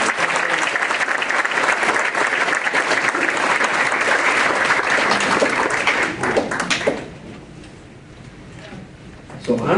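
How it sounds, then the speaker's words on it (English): A crowd at an Elks awards ceremony gives a loud, dense round of applause that runs about seven seconds, then fades to quiet room murmur before a few claps return. "Round of applause."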